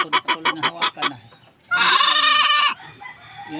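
A gamefowl rooster clucks close by in a quick run of five or six sharp pulses, then lets out a louder, sustained crowing call before falling quiet.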